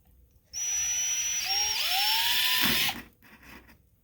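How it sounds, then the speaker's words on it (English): A high-pitched electric drill whines steadily for about two seconds, its pitch dipping and rising as it bites, then stops abruptly. "Am I supposed to drill like in and out at the same time?"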